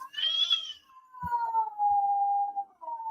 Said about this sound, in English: No, that's a cat. That's a cat.